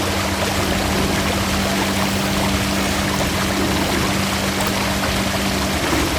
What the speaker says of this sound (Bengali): এখানে আমরা দেখতে পাচ্ছি একটি লঞ্চ, সেটি চাঁদপুরের উদ্দেশ্যে ফিরে যাচ্ছে